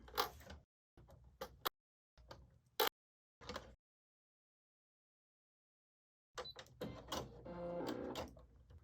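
A sewing machine stitches a 5/8 seam on a dropped-shoulder hoodie with the presser foot down, giving short separate bursts of close mechanical whirring and clicking. After a stretch of silence it picks up again in a longer, steadier run.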